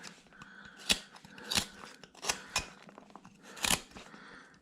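A long knife slices through a carved Mrs Santa figure in four or five crisp, close cutting strokes, each a sharp scraping snip separated by short pauses, with nobody speaking.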